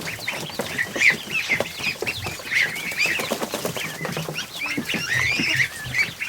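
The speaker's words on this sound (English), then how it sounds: "Another goose." Geese and ducks crowd into a barn for the night, a busy mix of overlapping honks, quacks and chirps with shuffling and occasional wing flaps, fairly close and continuous.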